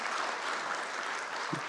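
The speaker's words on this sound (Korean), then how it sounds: "큰 박수로 축하해 주시기 바랍니다" Steady applause from a church congregation honoring children who won awards at a church-school talent competition, a broad even wash of clapping with one brief low thump near the end.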